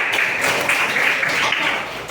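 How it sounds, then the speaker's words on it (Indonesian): A classroom of pupils applauds a classmate, a dense continuous patter of many small hands clapping together, steady and fairly loud for a couple of seconds. "Tepuk tangan buat Mas"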